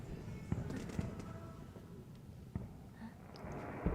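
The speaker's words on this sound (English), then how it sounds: "Oh, these are the fireworks." Fireworks in a TV drama crackle and pop faintly with a few sharp bangs at intervals over a low background wash, quiet and distant with no clear speech.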